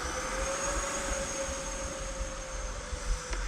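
RC model F-18 jet plane taxiing, its turbine engine giving a steady loud whine and rush with a high tonal hum, continuous and close throughout.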